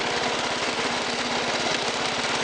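A 1986 Toro 11-32 lawn tractor engine runs at a steady, rapid putter with a slight knocking pulse, loud and close, alone and without any talk.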